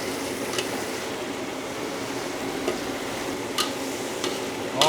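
Chicken and garlic stir-frying for Indonesian fried capcay in a catering kitchen, a soft, continuous sizzle with a few sharp scrapes of a utensil against the pan, no talking.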